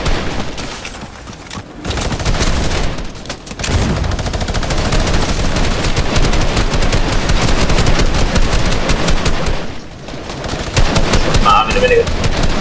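A minigun fires in a fast-paced online shooter game, loud sustained rattling bursts with short gaps between volleys, mixed with game explosions, a player talking over the gunfire.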